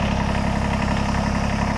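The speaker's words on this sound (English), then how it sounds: "we're going to start the tractor up and lift up the lift linkage" A Kubota BX series compact tractor engine running at a steady idle, a loud, close, even diesel chug with no voices.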